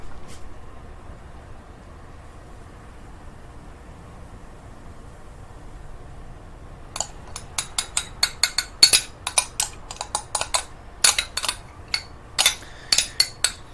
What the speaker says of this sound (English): Get my spoon.